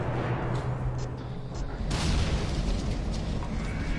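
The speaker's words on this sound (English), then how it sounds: "It sounds like a thunderstorm. More like an explosion." A C4 explosion booms at a distance, a muffled rumbling blast that swells midway and rolls on heavily, with voices faintly present.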